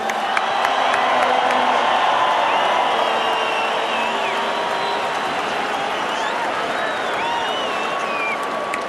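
A large rugby crowd at Newlands stadium roars with dense, sustained applause and cheering after South Africa beat New Zealand in the 2005 Tri Nations, with whistles and whoops rising above the steady clapping.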